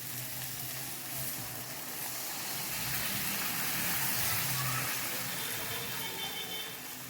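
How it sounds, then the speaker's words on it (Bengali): Water poured into a pan of sizzling fried spice masala for a Bengali fish curry, a loud hissing sizzle and gushing pour swelling midway then easing, close up with no talking. "এবারে আমি জল ঢেলে দিই।"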